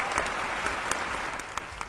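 An audience bursts into brief, dense applause, many hands clapping at once in a steady close wash of sound.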